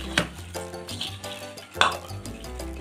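Peanuts being stirred and mixed with masala in a bowl, giving soft scraping and clinking of a spoon against the dish, with two sharper knocks amid a steady low hum.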